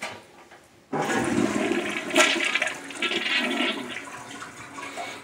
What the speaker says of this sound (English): Let me flush it.